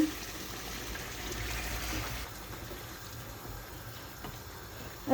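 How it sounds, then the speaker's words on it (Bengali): Water pours steadily into a pot in a continuous rushing stream, easing slightly partway through, with no talking. "তাই এখন পানি দিয়ে দিতেছি"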